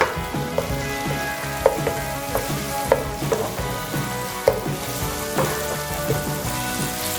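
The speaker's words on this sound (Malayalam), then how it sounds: "അതിട്ട് ഒരു ഗോൾഡൻ ബ്രൗൺ ആവുന്നത് വരെ ഫ്രൈ ചെയ്യുക." Two large onions fry in oil toward golden brown for a liver fry, crackling and sizzling closely with frequent spatula stirs and taps against the pan, and no one speaking.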